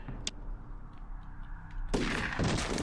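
A short burst of gunfire in the squad tactics game UFO: Aftershock, a sharp crack early on, then a sudden loud, noisy volley filling the final second.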